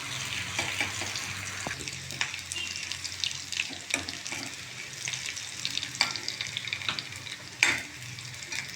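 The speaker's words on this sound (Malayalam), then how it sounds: "ഞാൻ ഈ വറുത്തതിനെ ഇതിലേക്ക് ആഡ് ചെയ്യാൻ പോകും." Browned fried onions are stirred in a cooking pan, giving soft intermittent sizzling with scraping and clinking of a utensil, close up and without talk.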